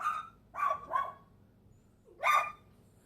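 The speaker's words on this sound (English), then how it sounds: "And you've now got my dog going crazy." A pet dog indoors barks three times: two quick barks close together, a pause, then one more, all near and fairly loud with no talking over them.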